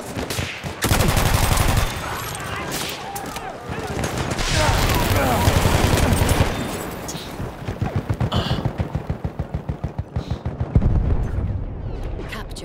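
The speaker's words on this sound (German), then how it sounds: "Ich werf eine Granate, aufpassen!" A thrown grenade explodes amid the constant roar of a Battlefield 1 battle in the Argonne Forest, with dense rifle and machine-gun fire and heavy booms running loudly throughout.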